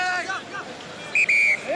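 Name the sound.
referee's whistle at a rugby match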